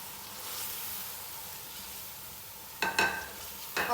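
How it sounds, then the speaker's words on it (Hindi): Chicken sautéing in a pan for yakhni pulao, a soft steady sizzle with a couple of louder stirring scrapes near the end. "और अब हम इसकी चिकन की थोड़ी सी भुनाई करेंगे।"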